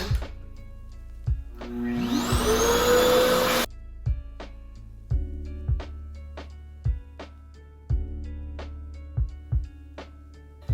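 A Revair reverse-air hair dryer switched on at heat setting 2, a steady whooshing motor drone that rises for a couple of seconds and cuts off, followed by repeated sharp clicks and taps, close by.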